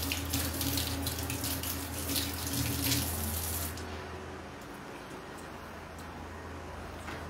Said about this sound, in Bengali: তো হাতটা ধুই।